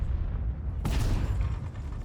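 A tank's main gun fires once in World of Tanks, a sudden broadband blast that cuts in sharply and rings out over a steady low engine rumble, with no talk.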